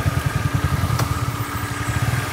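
A motorcycle engine idles close by with a steady, chugging low pulse and light clatter, and a sharp click sounds partway through as it carries on running.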